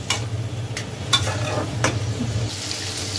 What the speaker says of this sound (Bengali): লাউগুলো মশলার সাথে ভালোভাবে কষিয়ে নিব